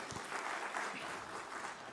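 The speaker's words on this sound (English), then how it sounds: "Another round of applause, please." Conference audience applauding steadily at a water and sanitation event, a dense, even patter of clapping filling the whole stretch at moderate volume with no voices over it.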